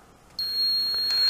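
An EcoNet Bulldog water leak sensor alarm sounds a sudden, sustained high-pitched electronic beep that starts after a brief quiet moment and holds steady, loud and close.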